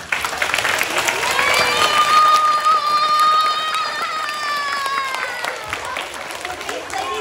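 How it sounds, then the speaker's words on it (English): An audience at an elementary school assembly claps and cheers, a dense, steady wave of applause that swells and then gradually thins, with voices and a whistle-like tone audible through it. "Let's give a round of applause."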